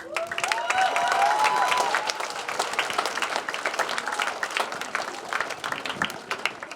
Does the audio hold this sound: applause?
yes